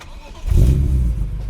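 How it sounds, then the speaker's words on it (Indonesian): A 3200 cc six-cylinder high-performance engine in a two-door sports car from the 2000s cranks and catches with a deep, close rumble, then settles toward a steady idle. "Dan mari kita starter mesinnya."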